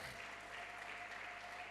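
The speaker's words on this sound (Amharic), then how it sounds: "ክብር አጨብጭቡ።" A church congregation claps in praise to the Lord, a soft, distant and steady patter of many hands that stays faint and even throughout.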